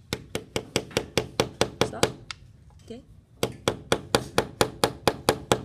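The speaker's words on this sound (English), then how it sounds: "And he's going to hammer on here." Sharp, evenly spaced hammer taps on a metal bezel being set around a stone in jewelry work ring out close and loud. They pause briefly for a few spoken words, then resume at the same quick rhythm.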